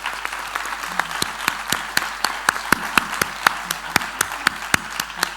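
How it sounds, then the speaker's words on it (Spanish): Audience at a round-table panel on adult ADHD claps for the speakers, a steady patter of hands with sharp individual claps standing out, moderately loud throughout. "yo creo que se merecen un aplauso."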